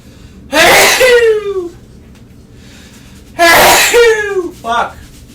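Two loud close sneezes a few seconds apart, each a sharp burst trailing off into a descending vocal tail, the second followed by a brief extra gasp, with quiet room tone between.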